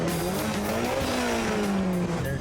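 A rival drag race car with a healthy-sounding engine roars past, a loud, continuous engine drone whose pitch slides slightly, with a rough tire-squeal edge, no talking.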